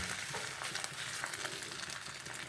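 Egg sizzles and fries steadily in a buttered pan, a continuous close crackling hiss with no talking.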